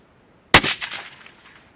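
A single loud rifle shot fired at a target, a sharp crack followed by a rolling echo that decays over about a second, heard alone with no talk.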